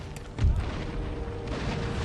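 Cannon fire booms in the Empire: Total War strategy game as a single deep, muffled blast, set against a low rumbling battlefield backdrop.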